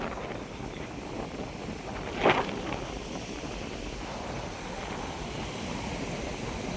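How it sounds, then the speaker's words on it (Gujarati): Steady wind rushing across an open shore, a broad continuous roar with a brief louder gust partway through. "એસી કરતાં બેસ્ટમાં બેસ્ટ પવન આવે"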